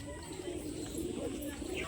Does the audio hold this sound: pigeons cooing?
yes